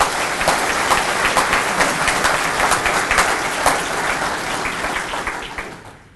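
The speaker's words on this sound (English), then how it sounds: "please give all of our longevity award recipients a big round of applause" An audience at a 2013 Hillsborough County Sheriff's Office awards ceremony applauds longevity award recipients: steady, dense clapping that holds evenly throughout, then thins and fades at the very end.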